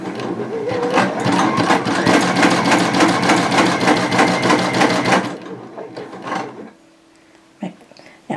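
Baby Lock Sashiko BLQK2 sewing machine stitching, a loud steady mechanical whirring rattle for about five seconds, then stopping, followed by quieter clicks and handling noises.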